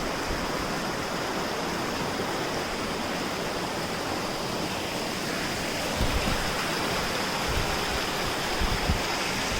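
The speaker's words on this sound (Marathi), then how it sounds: "ह्यो ओहोळ पुढे जाऊन समुद्राक मिळता हो गोड्या पाण्याचा ओहोळ असा" A freshwater stream rushes and flows into the sea at Kondura beach near Vengurla, a steady, loud broadband wash of water and surf with no voices, with slightly stronger splashing surges toward the end.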